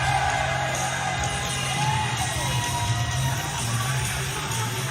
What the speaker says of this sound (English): the fans here in Little Rock shouting out Kaze ni Nare, the refrain of Minoru Suzuki